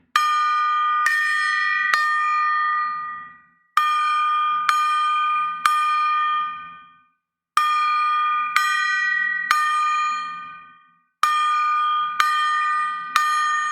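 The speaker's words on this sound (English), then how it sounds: "we gonna strike the gong" Twelve slow strikes on a large bell-like gong, each clear metallic ring decaying before the next, grouped in four sets of three with brief gaps, loud and alone.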